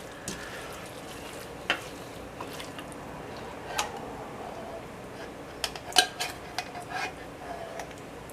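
Cooked noodles and freeze-dried beef stroganoff being folded together in a pot, with faint, scattered scrapes and clinks of a utensil against the pot over quiet background.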